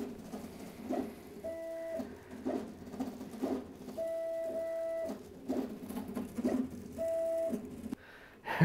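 Stepper motors of a laser cutter jitter while engraving, buzzing in short tonal bursts with rapid stuttering clicks in an irregular rhythm, up close and alone.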